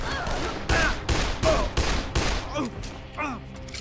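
A quick burst of gunfire in the Dead Island video game, loud sharp shots in a rapid uneven sequence, followed by voices talking near the end.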